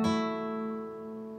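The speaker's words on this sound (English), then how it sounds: "she wanted to explore this guitar technique called the campanella" A guitar plays in the campanella style, several strings left ringing into one another; a single bright plucked sound opens the clip and its harmonics sustain and slowly fade, loud and close, with no voices.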